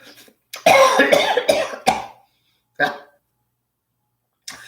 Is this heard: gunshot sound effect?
no